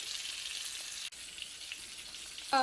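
Pomfret (silver pompano) fish fries in a pan with a steady, soft crackling sizzle that continues throughout, fairly faint and close, with a brief dip midway and a louder spatter at the end.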